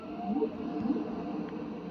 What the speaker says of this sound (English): going to put it on track 4 to hear the songs of the humpback whale